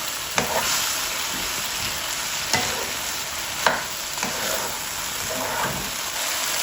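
Okra frying over high heat hisses in a continuous, even sizzle, punctuated by a few sharp stirring knocks against the pan, with no speech.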